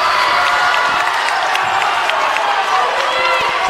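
Home crowd at a boys' basketball league title game roars and cheers in a loud, continuous wall of noise in the gym, with voices shouting over it.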